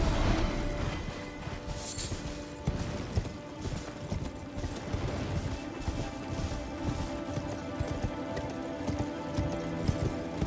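A horse galloping in Elden Ring, steady rapid hoofbeats under dense game ambience and effects, fairly loud and continuous.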